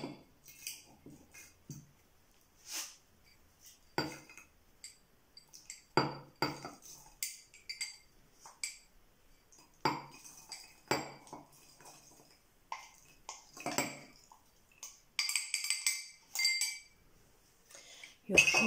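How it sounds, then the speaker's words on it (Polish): Chestnuts tumble into a glass jar in scattered bursts of clinks and clatter. The sounds are close and fairly quiet, with gaps between pours and a denser rattle near the end. "Przelewamy do słoika, wsypujemy kasztany"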